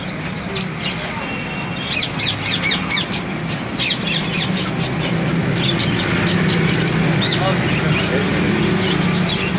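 Pigeons squawk and chirp over a constant crowd murmur and rumble, with people talking in the background of a noisy bird market in Jhelum.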